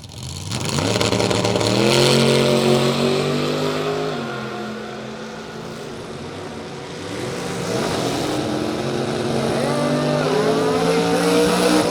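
Limited Drag Radial race cars roaring down a drag strip, loud sustained engine howl with rising and falling harmonics as the cars shift gears, fading slightly midway then surging again, with faint crowd and track ambience behind.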